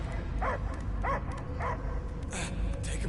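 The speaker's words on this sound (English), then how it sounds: "I hear only barking" A dog barks in a video game, three spaced barks or yips over a steady game-world ambience, followed by brief brighter noises near the end.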